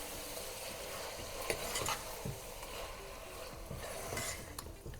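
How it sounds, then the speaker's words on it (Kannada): Mutton with salt fries in a pan for biryani, giving a continuous close sizzle broken by repeated scraping stirs. "ಕಂಪ್ಲೀಟಾಗಿ ಫ್ರೈ ಆಗಲಿ ಅದು"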